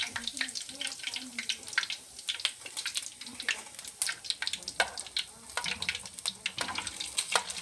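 Squid rings (kalamares) fry in hot oil, crackling and popping in an irregular sizzle with sharp spatters, close up and moderately loud, with brief voices in the background.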